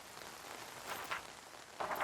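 Rain patters steadily across a desert landscape in the game Nightingale, a soft, continuous hiss of falling drops that stays faint and even, with no voices over it.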